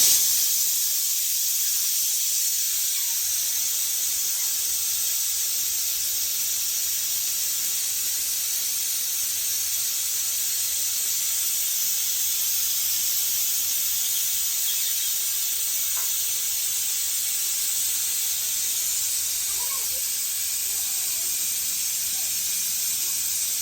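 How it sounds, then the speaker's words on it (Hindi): A pressure cooker whistle vents steam in a long, loud, continuous hiss while veg biryani cooks, steady and close throughout with faint kitchen clatter underneath and no talking. "तो कुकर के सीटी खुल गए संगवारी को पूरा"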